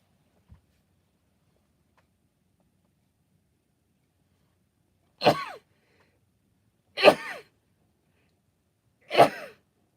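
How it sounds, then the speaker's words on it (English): Three short, sharp bursts in the quiet, each a sudden explosive exhale like a sneeze, spaced a couple of seconds apart. "Oh, I'm going to sneeze."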